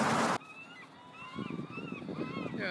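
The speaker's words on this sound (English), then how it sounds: "Seagull above me." Seagulls cry overhead along the Olympia waterfront, a few nasal, honking calls repeating at moderate distance after a burst of wind noise, with faint outdoor background and no talk during the calls.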